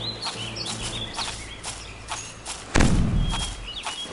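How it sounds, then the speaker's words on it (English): Cannon fire in the video game Wars & Warriors: Joan of Arc: a few soft thuds, then one heavy boom near the end with a rumbling tail, amid light battle noise and no speech. "More enemies right here, cannons are being shot."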